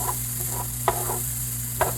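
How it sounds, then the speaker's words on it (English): Onions sauté in a pan for a steak dish with a faint, steady sizzle. A utensil stirs or scrapes them now and then, making a few soft clicks over a constant hum. "I love the smell of sauteing onions."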